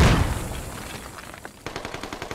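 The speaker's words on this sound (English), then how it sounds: "More mortars coming out." Mortar and gunfire in the military shooter Squad: a loud opening blast decays, then a rapid string of sharp, evenly spaced shots closes out the moment, no talk.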